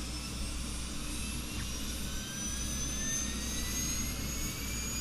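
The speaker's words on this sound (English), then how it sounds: "I'm going to start with the left engine." A simulated MV-22B Osprey's left engine spools up in a flight simulator, a steady whining turbine hum over a low rumble, constant and moderately quiet with a rising tone, no voices.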